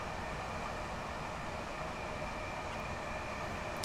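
A Class 387 commuter train in the Train Sim World 2 video game runs at speed, giving a steady, loud broadband rumble and rush of wind and wheels with no pauses.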